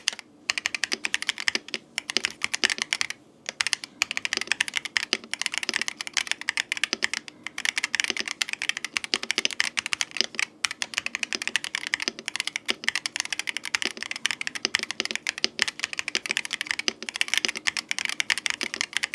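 Rapid, steady typing on a Win 60HE mechanical keyboard, crisp clacky keystrokes running continuously with brief pauses, close up and with no voices.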